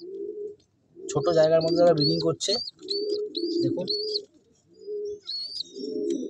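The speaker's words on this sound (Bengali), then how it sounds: "এইগুলো দাদা ব্রিডিং পায়রা" Madrasi breeding pigeons in a small loft give low, repeated cooing calls close by, with someone talking over them for much of the time.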